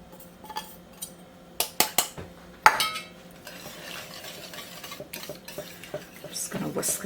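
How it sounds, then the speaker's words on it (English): Grated mild cheese being whisked into a tuna casserole mixture, light clinks and taps of utensil against a dish in quick bursts, then softer scraping and stirring, close and fairly quiet. "Just going to whisk that in."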